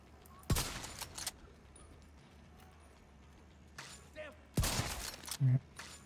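Gunfire in a video game aimed at a heavily armored enemy comes as two loud, close bursts of rapid shots a few seconds apart, with a quieter ambient stretch between and a player talking in the pauses.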